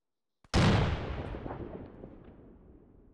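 A single heavy gunshot or cannon blast in a military shooter video game, loud and close, with a long rumbling decay that fades over the next few seconds.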